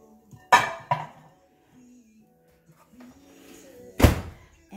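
A bowl of chocolate and butter goes into a home microwave, heard as a few close thunks and a clatter of the bowl and door, with quiet background between.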